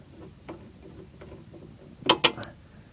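A bottom rear strut bolt being worked loose on a 2005 Chevrolet Uplander produces soft intermittent ticks and knocks, then two sharp metallic clanks close by as the bolt comes free.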